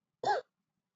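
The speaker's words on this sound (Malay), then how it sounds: "Sekejap, nak batuk je." A single short, fairly close cough, brief and isolated with silence after it.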